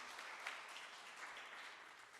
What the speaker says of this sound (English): Yes, you can clap for each one.